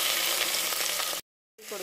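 Crushed onions and green chilies sautéing in coconut oil, a loud, close, continuous sizzle that cuts out abruptly for a moment before resuming.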